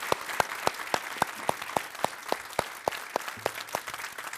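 Audience on a televised Indian debate show clapping to welcome participants, a rhythmic round of applause with steady, evenly spaced claps, moderately loud and without talk.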